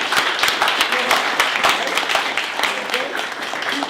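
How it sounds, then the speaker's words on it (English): Group applause in a small gathering, a steady run of mixed claps with voices faintly mixed in, fairly close and lively throughout. "Give a round of applause."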